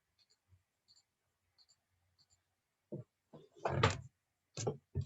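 Numbers being typed on a keyboard for a forex pip calculation, heard as a few faint sparse clicks and then a burst of louder, closer key taps toward the end, with no talking.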